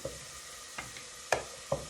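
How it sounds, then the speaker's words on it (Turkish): Tomatoes sizzle softly in a pan as they are sautéed with a spatula, with a faint steady fry and a few sharp scrapes and taps of the spatula. "Spatulamla da kavurma işlemini yapıyorum."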